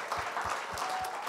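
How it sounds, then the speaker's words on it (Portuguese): A church congregation at a gospel service claps in a steady, even rhythm, the beats faint and somewhat distant. "Você pode dar uma salva de palmas para o único que é digno"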